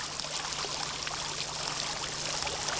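Water features in a garden pond splash and trickle, driven by Heissner pumps, a steady, close, continuous rush of falling water with a faint low hum underneath.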